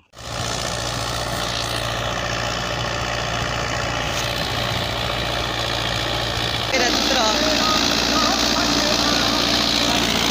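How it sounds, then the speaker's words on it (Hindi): A Sonalika 60 tractor with a shuttle gearbox idles close by, a steady droning hum whose tone shifts and grows slightly louder partway through, with people talking nearby. "सटल गेयर वाला ट्रैक्टर है"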